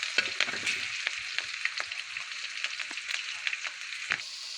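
Spice masala sautéing in a pan for an eggplant and potato curry: a soft steady sizzle with light scraping stirs, close and fairly quiet, no talking.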